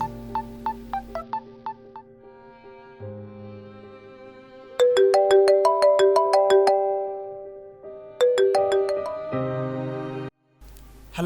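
A phone ringtone plays while calling a friend: a bright, repeating electronic melody of chiming notes that swells louder midway, pauses briefly, then resumes, with no one talking.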